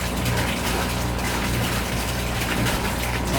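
An air pump bubbles and gushes steadily in a compost tea brew tank, a dense, continuous wash of churning water that holds at an even, loud level throughout.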